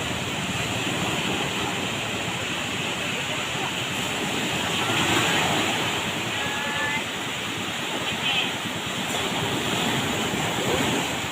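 Steady rushing surf with wind buffeting the microphone, a continuous wash of ocean waves close by.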